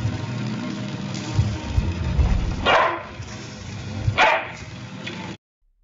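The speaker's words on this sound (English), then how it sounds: "So I gave it a prompt to generate a sound of a barking dog, and here is the audio it generated." AI-generated barking dog produced from a text prompt: two clear bark-like bursts about a second and a half apart over a low rumbling background, ending in abrupt silence.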